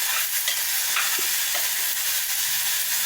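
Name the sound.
ginger garlic paste frying in pan while stirred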